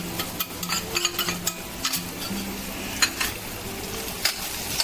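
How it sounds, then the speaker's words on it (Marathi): Cowpea vegetables fry in oil over a low gas flame while being stirred, producing a close, constant sizzle dotted with frequent scraping and clattering spoon strikes against the pan. "बारीक गॅस केला का मस्त तेल सुटतं तेल इकडे तिकडे उडत नाही छानपैकी हलवून घ्यायचं"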